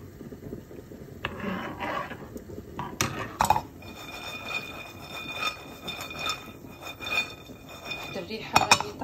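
Spoon stirring a pot of Middle Eastern mahalabiya rice pudding, with uneven clinks and scrapes against the pan, some bursts louder than others, and faint background talk.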